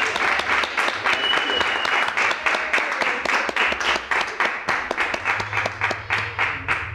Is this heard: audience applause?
yes